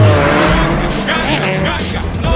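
A loud action sequence from a Fast and Furious film: racing cars, including a Skyline, roar at close range with squealing, skidding tires, a dense continuous engine and tire din with voices mixed in.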